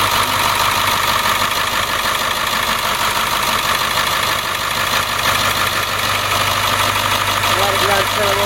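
A rear-engine International RE30 school bus engine idles steadily with a constant low rumble and mechanical vibration, unchanging for the whole stretch.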